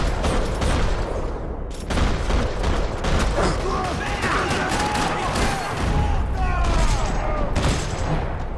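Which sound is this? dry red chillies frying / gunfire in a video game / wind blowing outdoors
gunfire in a video game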